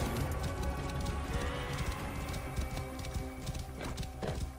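Horse hooves clip-clop steadily in Assassin's Creed Origins, a continuous walking rhythm of many dull thuds over a busy game soundscape, with brief bright accents near the end.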